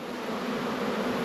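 Dense, steady buzzing of honey bees swarming around a hive box shaken off a frame, a close continuous drone with no voices.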